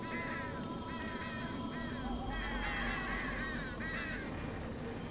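Crows caw repeatedly in the video game Them and Us, harsh calls sounding in clusters over a steady low ambient hum, at moderate distance and fairly quiet.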